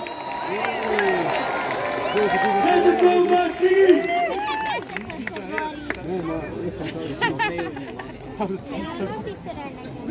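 A crowd in the Pula arena cheers and chatters for gladiators, voices rising in excited shouts and whoops, then settling into a busy murmur of talk and calls that fills the stands.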